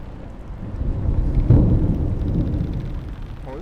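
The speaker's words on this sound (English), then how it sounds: "Oh, this is the first time I've heard that thunder with the volume so high." Low rolling thunder rumbles loudly through a steady wash of rain in the sailing game Insomniac Yacht Club, swelling to a peak midway and then fading back into the rain, with no voices.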